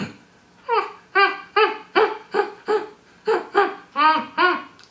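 A human voice imitates a puppy, vibrating the sound between nose and mouth to make about ten short, bright, yapping yelps in a quick, uneven series, close and fairly loud, with no other sounds.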